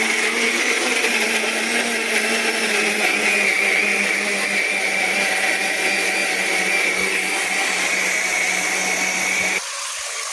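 A mixer grinder jar grinding a noodle paste, a steady loud motor whine with a high pitched hum, running continuously before dropping abruptly to a lower tone at the very end.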